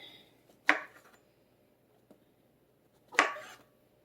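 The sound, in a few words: chopping mushrooms with a knife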